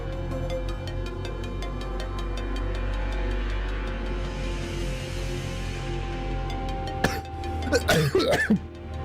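A short burst of throat-clearing coughs after choking on water near the end, preceded by a steady hum of background noise.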